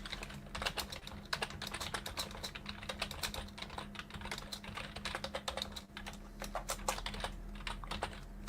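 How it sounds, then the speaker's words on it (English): Rapid, uneven clatter of keys on a computer keyboard, typed steadily and close to the microphone for several seconds, with a low steady hum underneath and no talking. "Yeah, that's Mark typing to me during this phone call."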